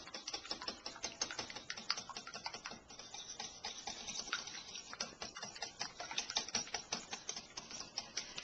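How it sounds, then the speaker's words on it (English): Crab cake ingredients with Worcestershire sauce being whisked in a bowl, rapid close clicking taps repeating steadily throughout. "And then you whisk it together."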